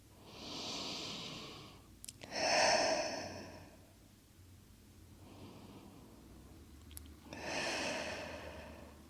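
Slow, deep breaths during a yin yoga session, audible inhales and long exhales alternating in a calm rhythm, close and soft in a quiet room.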